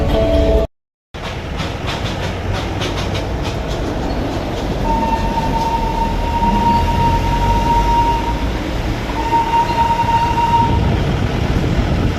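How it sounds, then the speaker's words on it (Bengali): A train at Sonada railway station near Darjeeling gives a loud, steady rumble and rattle throughout, with a sustained horn-like tone partway through and no talk. "এটা সোনাদা স্টেশন"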